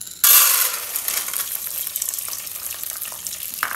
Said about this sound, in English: So now we are coming to pour our corn into the saucepan.